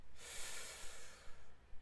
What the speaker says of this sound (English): So we're just going to take a deep breath in